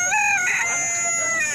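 A rooster crows once, loud and close, at a poultry market selling local chickens, with no talk over it.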